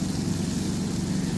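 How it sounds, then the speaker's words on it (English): An RV camping generator drones steadily outdoors at night with a low, even engine rumble and broadband hum, continuous throughout with no voices. "You can hear the generator purring in the background."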